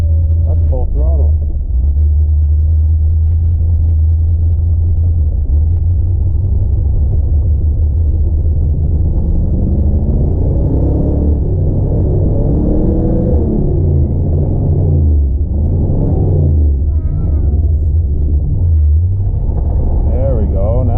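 A 1980 Buick Regal engine held at full throttle gives a loud, steady low rumble that climbs and wavers in pitch, with someone talking over it.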